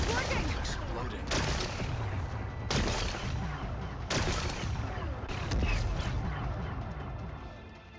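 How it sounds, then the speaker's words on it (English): Rock-blasting explosions in the Horizon Forbidden West game sound as several heavy booms about a second or two apart, each followed by rumbling debris over a dense, continuous game soundscape. "Gotta blast away some rocks so I can expose the power cell"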